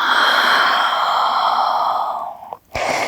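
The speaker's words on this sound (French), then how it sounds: "Et j'expire." A long, steady exhale of breath during prenatal yoga, a broad airy hiss sustained for over two seconds and then tapering off, followed by a brief quieter breath near the end.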